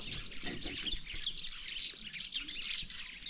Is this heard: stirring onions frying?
no